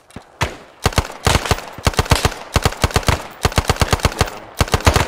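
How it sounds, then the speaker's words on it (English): Rapid automatic gunfire in the military game Arma 3 Vietnam, with several dense bursts of close, loud shots in quick succession, separated by brief pauses. "Firing back now."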